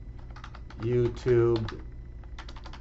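Keystrokes on a computer keyboard as a short note is typed into task-tracking software, a scattered run of light clicks before and after a brief spoken phrase.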